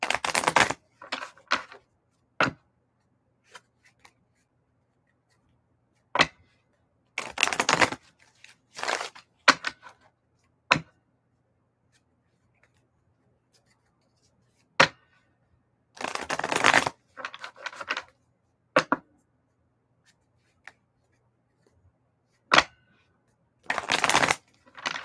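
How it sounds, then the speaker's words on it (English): A tarot card deck shuffled at a live reading, heard as repeated riffling bursts and sharp single snaps spread through a quiet stretch, close and fairly loud with no talk. "we're going to shuffle this deck"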